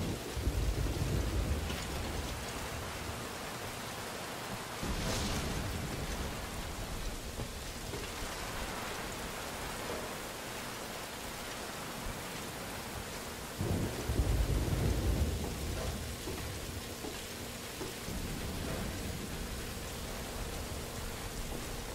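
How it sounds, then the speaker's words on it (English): Steady heavy rain from Metal Gear Solid V: Ground Zeroes pours throughout, broken by deep rolling thunder rumbles near the start and again around the middle, loud and enveloping with no voices. "Rain just won't let up."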